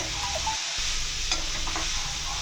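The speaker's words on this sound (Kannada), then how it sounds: "ಒಂದು ಇಡಿಯಷ್ಟು ಕೊತ್ತಂಬರಿ ಸೊಪ್ಪನ್ನು ಕೂಡ ಹಾಕೋತಾ ಇದ್ದೀನಿ ಇದನ್ನು ಒಂದೆರಡು ನಿಮಿಷ ಫ್ರೈ ಮಾಡಿಕೊಂಡು" Coconut and a handful of coriander leaves fry in a hot pan for a mutton kheema kofta curry masala, giving a close, continuous sizzle with scraping stir strokes and one short break, with no voices.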